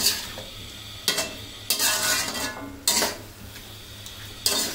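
Spices and yogurt sizzle in a pan over a raised flame while beef curry is cooked, with several bursts of stirring and scraping against the pot, each followed by a steady frying hiss.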